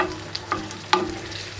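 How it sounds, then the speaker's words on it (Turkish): A glass of water goes into minced meat frying in a pan for Kayseri-style yağlama, giving a faint, brief sizzle and hiss with a few soft clicks and no talking. "üzerine şöyle bir su bardağı su ekleyelim."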